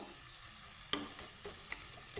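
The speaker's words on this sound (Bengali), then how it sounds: "আমি এখন পেঁয়াজের সাথে মশলাটাকে একটু হালকা করে ভেজে নেবো" Onion and spice masala frying in a pan while making dahi bhindi, okra in yogurt: a faint, steady sizzle with a sharp clink of stirring near the middle and softer scrapes after.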